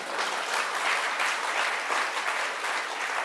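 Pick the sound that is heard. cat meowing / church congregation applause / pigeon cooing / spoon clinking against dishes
church congregation applause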